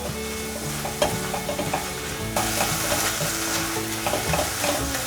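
Vegetables are stir-fried in a pan with turmeric powder and rose salt: a steady sizzle with scraping spatula strokes, near and continuous, with no one speaking.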